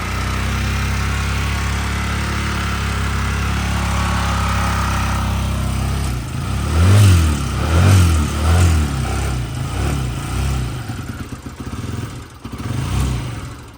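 A Yamaha Jog SA36 scooter engine runs at full throttle, a loud buzzing drone close by that later stutters and pulses unevenly in a few rhythmic bursts.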